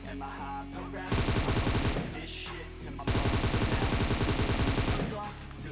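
Automatic gunfire in the mobile game PUBG Mobile, two long rapid bursts of loud machine-gun fire separated by a short pause, with a steady background game hum.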